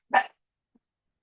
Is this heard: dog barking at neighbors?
yes